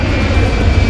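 An airplane engine roars steadily overhead at Taman Safari Prigen, Indonesia, a loud, brief low rumble with no voices.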